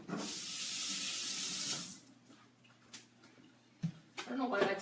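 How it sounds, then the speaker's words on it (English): A kitchen tap runs while a hand is rinsed during homemade mayonnaise prep, a steady rushing hiss for about two seconds that then cuts off, followed by faint clatter and a voice. "I need to rinse my hand."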